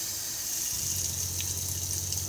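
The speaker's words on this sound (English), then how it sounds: "Water pump needs to be on so we can get water out of the taps" Water runs steadily from a tap inside a 2020 Benimar Tessoro T487 motorhome, a continuous hissing splash with a low pump hum beneath it.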